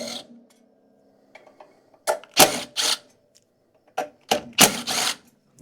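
A power driver spins T30 Torx bolts out of the engine housing on a John Deere X300 riding mower, giving several short, close whirring bursts with pauses between them and no talking.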